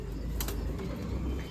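Pigeons coo in a breeding loft, soft low calls rising over a steady background murmur, with no clear talking in this moment.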